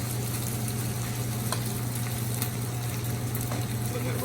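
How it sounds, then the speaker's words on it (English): Steady crackling sizzle of rice frying in a hot pan, a dense continuous hiss with occasional louder pops. "Let that rice fry."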